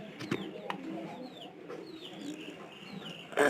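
Pigeons kept in a coop give soft repeated cooing calls among other faint bird sounds and rustling, fairly quiet and close, with a brief louder noise at the very end.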